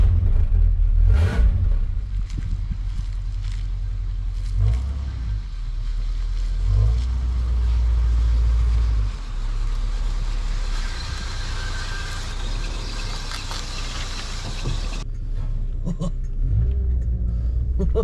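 A vintage Rolls-Royce Silver Shadow drives along with a steady low engine rumble and road noise from inside the cabin, swelling slightly at moments, with a few brief knocks and clicks over the drone.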